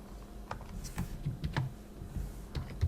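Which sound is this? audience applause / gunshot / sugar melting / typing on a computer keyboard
typing on a computer keyboard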